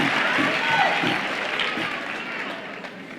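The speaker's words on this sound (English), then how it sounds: "let's give them another collective deserved round of applause" An audience at a university graduation ceremony gives a round of applause, a dense steady patter of many hands that gradually thins out, with a few faint voices underneath.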